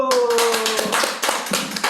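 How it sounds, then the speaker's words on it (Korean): Audience clapping at a church gathering, a dense patter of hand claps building after a brief tone, moderately loud and continuous for about two seconds with no talk over it. "박수!"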